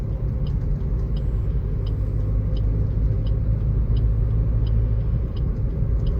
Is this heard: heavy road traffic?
yes